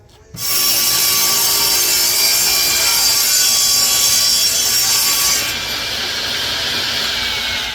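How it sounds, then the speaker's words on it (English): A bandsaw cuts through a thick wooden blank to shape a cabinet leg, a loud, steady, close rasping buzz that starts abruptly and holds, easing slightly near the end. "Now we're going to cut this out on the bandsaw."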